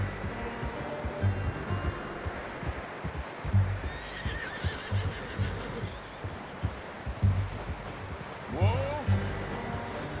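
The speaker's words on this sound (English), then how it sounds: "I'm gonna hitch Taima over here." In Red Dead Redemption 2, a horse whinnies several times over steady clip-clopping hooves, and someone speaks over the sounds of riding and reining in.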